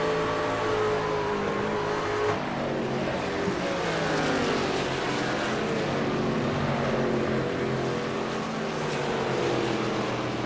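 A racing truck engine in a video game at Indianapolis drones steadily with shifting pitch as it revs and holds speed. The sound stays continuous and fairly loud throughout.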